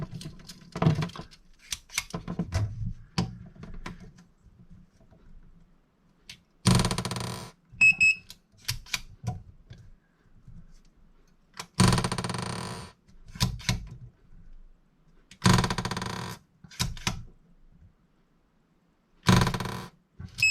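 A THL-500 rebound hardness tester strikes a pair of scissors and its built-in printer prints results: repeated loud buzzing bursts every few seconds, separated by quiet gaps with faint ticks.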